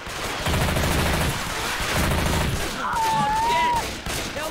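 Gunfire from the video game Left 4 Dead 2 rattles in rapid bursts, loud and close, with a short whistling tone over it near the end.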